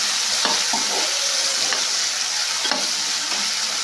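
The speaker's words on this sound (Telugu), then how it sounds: "ఇప్పుడు టమాటా ముక్కలు వేసేస్తున్నా. ఇవి కూడా కొద్దిసేపు అలా ఫ్రై చేస్తున్నా." Tomato pieces fry in a hot pan with a steady, close sizzle, broken by a few soft stirring scrapes, and no voices.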